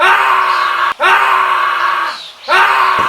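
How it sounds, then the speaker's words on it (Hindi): Loud, sustained high screams from a driver in an animated horror story sound effect, in three long terrified wails separated by brief gaps. "काफी समय इंतजार के बाद हमें ड्राइवर की दूसरी तरफ से चिल्लाने की आवाज आती है"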